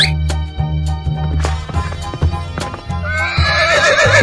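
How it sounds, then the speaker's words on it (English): A horse whinnies in a long, wavering neigh toward the end, preceded by clip-clop hoofbeats, all over a lively music background. "Horse."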